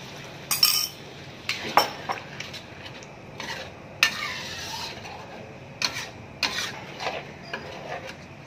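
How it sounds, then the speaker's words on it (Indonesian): A spoon stirs a thick mixture in a bowl as water is added, giving quiet scattered clinks and scraping rubs in short irregular bursts, close and soft. "Ini agaknya pekat ya, saya akan tambahkan dengan air ya"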